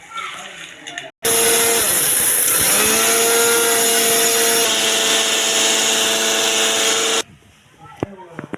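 An electric mixer grinder powders roasted nigella seeds, ajwain and fenugreek in a jar, running loud and steady for about six seconds after a brief pause and then cutting off abruptly.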